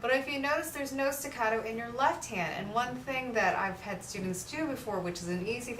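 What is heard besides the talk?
No everyday noises stand out.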